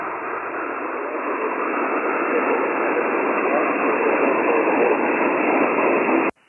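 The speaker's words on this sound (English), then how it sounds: "I barely have you in my noise floor here." Steady hiss of HF amateur radio static filling the 20-meter band, a dense even noise floor heard from an Icom IC-7610 receiver, loud and unbroken for several seconds before cutting off abruptly.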